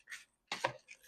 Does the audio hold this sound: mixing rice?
yes